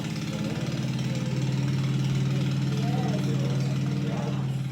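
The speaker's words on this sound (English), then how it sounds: "so it'll be a very small tractor" A small tractor engine runs at a steady, low, throbbing idle throughout, with a continuous rumble under people talking in a classroom.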